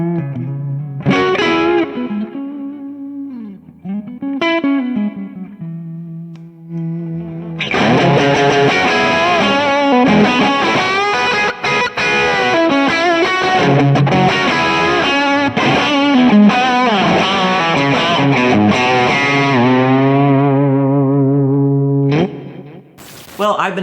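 Overdriven electric guitar through a Fender Brownface 62 Pro amp head, chords and single notes ringing with rich distortion and sustain, loud and continuous with a short pause before the final chord.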